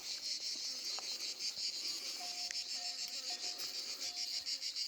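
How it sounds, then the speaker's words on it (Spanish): A cicada sings in an olive grove with a continuous, high, buzzing drone that holds steady in the background, faint and unbroken, while a few soft chirps sound beneath it. "Cómo canta la chicharra"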